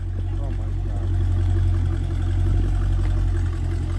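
A Dodge Challenger widebody muscle car engine runs steadily at a low, rumbling idle with slight swells in revs, heard close and continuous.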